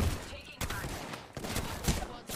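Shotgun blasts in Apex Legends, a few sharp bursts spaced unevenly over a short stretch of gameplay, fairly quiet overall under background game noise.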